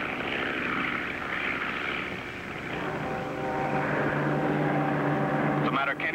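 A propeller plane drones steadily overhead, its engine hum throbbing and shifting in pitch as it passes, loud and continuous.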